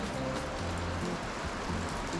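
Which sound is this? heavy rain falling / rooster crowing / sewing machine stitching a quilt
heavy rain falling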